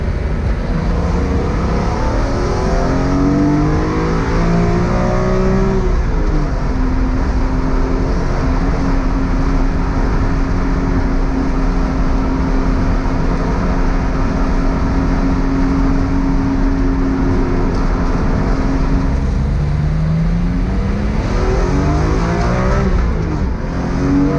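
A BMW E46 M3 race car engine revs hard to high RPM, loud and close, with sweeping rising and falling engine tones held at a sustained high pitch in the middle before dropping and climbing again.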